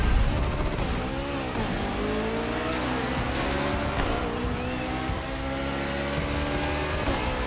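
Porsche 919 street hypercar racing in The Crew Motorfest, a steady high engine drone with rising revs and gear shifts, loud and continuous with no voices.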